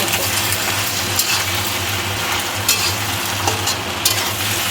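Egg pasta stirred and fried in a pan, a loud close sizzle with scraping spatula strokes over a low steady hum, no voices.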